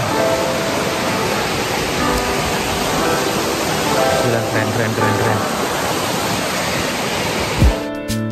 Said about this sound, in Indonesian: sungainya gede banget dan arusnya lagi deres-deresnya nih teman-teman